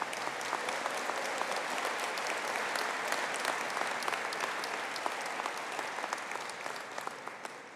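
An audience claps at a conferring ceremony for business and hospitality graduates, sustained indoor applause of many hands with crisp individual claps, tapering gently toward the end.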